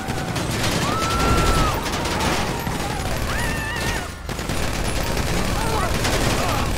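Sustained rapid gunfire from the GTA 5 video game fills the whole stretch as a dense, loud fusillade, with brief tonal in-game effects above it and a short dip near the end.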